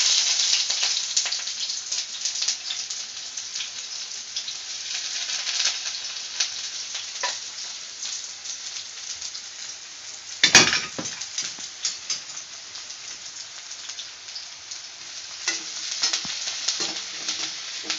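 Sliced onions fry in hot oil in a kadai, giving a steady, soft sizzle and crackle throughout, with a sharp clatter of stirring near the middle; fairly quiet and close, no talking.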